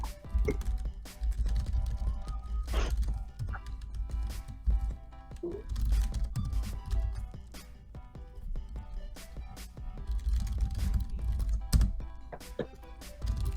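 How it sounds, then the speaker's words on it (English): Typing on a computer keyboard gives off a steady run of close, crisp clicks and clacks in irregular bursts, with an occasional louder key strike standing out above a low background hum. "I like the sound of that keyboard."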